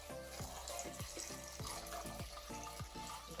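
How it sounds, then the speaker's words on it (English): Water runs steadily from a tap, a continuous faint splashing rush with no talking. "And now we're going to add water."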